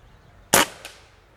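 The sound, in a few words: Karma Red Panda .30 cal air rifle shot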